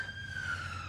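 A siren wails on a London street, a single steady tone held at moderate loudness over a low traffic rumble, with no voices.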